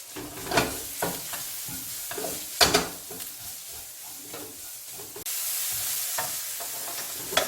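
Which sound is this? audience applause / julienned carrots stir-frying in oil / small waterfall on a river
julienned carrots stir-frying in oil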